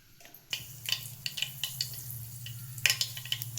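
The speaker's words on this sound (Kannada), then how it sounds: "ಎಣ್ಣೆ ಕಾದತಿ, ಸಾಸಿವೆ ಜೀರಿಗೆ ಹಾಕ್ಕೊಳ್ಳೋಣ" Mustard and cumin seeds sizzling in hot oil in a pan while cooking a fenugreek pulao: a steady low frying hiss with scattered sharp pops and crackles, close and fairly quiet.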